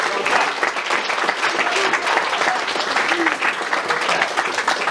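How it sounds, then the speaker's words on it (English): An audience applauds students at a school good-news assembly, steady dense clapping filling the room throughout, with some faint voices mixed underneath. "could you stand up so that we can applaud you?"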